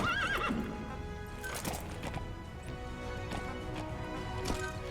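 The horse D-Horse in the video game Metal Gear Solid V gives a loud whinny, then its hooves clip-clop steadily under quiet background music.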